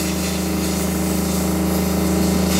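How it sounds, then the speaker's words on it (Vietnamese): A Japanese Kubota 722 engine drives a generator with an Italian alternator at high speed, giving a loud, steady, buzzing mechanical drone with a strong low hum. It runs unbroken and alone, with no voices. "Động cơ tua nhanh"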